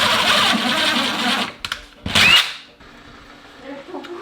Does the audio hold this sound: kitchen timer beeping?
no